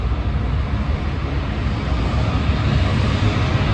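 Loud helicopter passing overhead in a street setting, a dense continuous roar with low thumping rumble, steady and close with no voices.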